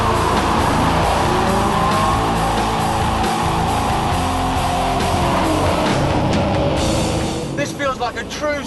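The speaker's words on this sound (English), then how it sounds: "just listen to that 5-litre V10 engine" A Lamborghini supercar's 5-litre V10 engine roars continuously, loud and close, with a sustained high mechanical tone, then eases off near the end. Music or talk sits faintly underneath.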